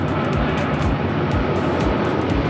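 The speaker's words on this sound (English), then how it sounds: "Oh, that's an Air Tahiti Dreamliner." An Air Tahiti Boeing 787 Dreamliner airliner passing overhead, a steady, dense broadband roar that holds at constant loudness throughout, with no voices.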